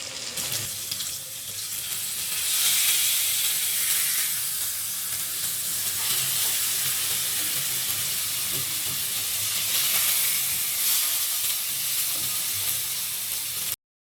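Tandoori chicken cooks in a pan over a high flame with a loud, steady, close hiss of sizzling that runs unbroken throughout, with no talking.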